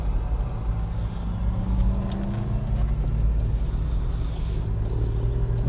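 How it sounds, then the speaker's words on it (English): Classic cars, including MGs and Rovers, rumbling past nearby at a car show, a continuous low engine drone with rising and falling traffic noise, no voices. "Look at the cars arriving, aren't they stunning?"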